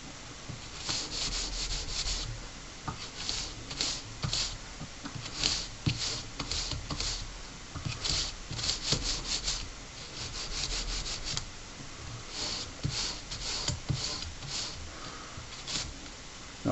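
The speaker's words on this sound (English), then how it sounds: "Now sandpaper, you can sand in any direction." Sandpaper rubbing the back of a metal pendant, a continuous close, rhythmic scratchy rasp of back-and-forth strokes that keeps going throughout.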